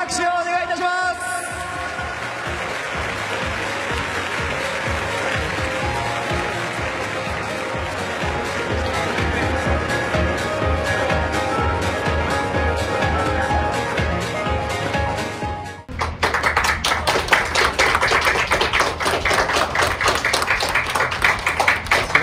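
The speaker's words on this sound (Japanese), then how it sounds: "西川選手にも大きな拍手をお願いいたします" Ballpark crowd applauding after a ceremonial first pitch, sustained clapping from many hands mixed with an announcer's voice over the stadium speakers, swelling louder in the final stretch.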